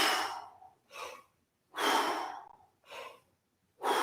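Breathy exhales during a squatting breath exercise come in a steady pattern, five strong sighing puffs separated by short silences, close and fairly soft.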